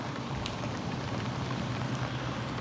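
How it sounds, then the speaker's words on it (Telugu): Heavy rain falls during a motorcycle ride, heard as a constant dense rushing hiss with a low rumble of wind and road noise underneath, steady and unbroken. "बहुत ज़्यादा हो रहा है बारिश"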